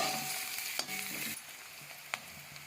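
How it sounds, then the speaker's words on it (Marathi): Onion fries and sizzles in a pan while being stirred until pink, with a steady close hiss broken by a few sharp knocks and scrapes of the spoon. "आता याला मी चांगलं हलवून घेणार आहे व गुलाबी होईपर्यंत कांदा चांगला भाजून घेणार आहे"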